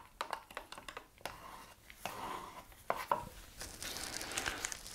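Neon paint being stirred and mixed in a small container for a bicycle frame restoration, quiet close scraping and tapping strokes in an irregular rhythm, faint throughout.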